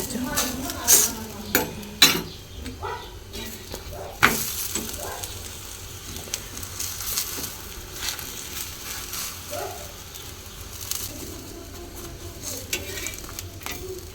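Parathas frying on a griddle in a home kitchen with a soft steady sizzle, broken by clattering utensils and scraping against the pan, with a few sharp knocks early on and quiet voices in the background.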